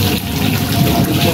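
Hot spring water flowing at a shrine well, a loud, steady close-up gush of running water with a constant splashing rush and no pauses.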